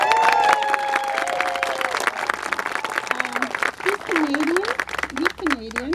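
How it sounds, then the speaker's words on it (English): An audience at a D23 opening ceremony breaks into a sustained round of applause, dense clapping from a crowd that carries on under an announcer talking over a PA. "I think we need to give him a round of applause"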